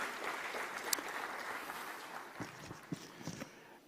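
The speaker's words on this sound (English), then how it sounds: "Could we have a huge round of applause for our wonderful jury?" At a business awards ceremony, faint, distant audience applause for the jury rustles on steadily, with a few louder individual claps near the end.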